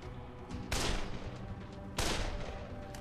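Gunfire from a weapon in the zombie game Dead Island, two loud sharp blasts about a second apart over a busy game background.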